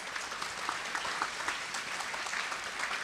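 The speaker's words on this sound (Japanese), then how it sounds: "皆様今一度大きな拍手をお願いいたします" Audience applause at the close of a symposium forum in Tokyo, continuous dense clapping at moderate distance, steady and even throughout.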